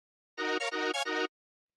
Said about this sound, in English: strings tend to have a little bit of an attack to them